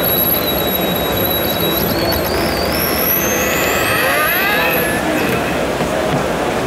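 The brushless motor of an electric skateboard spins up from a cold start, giving a thin whine that climbs steadily in pitch over a loud, constant background roar.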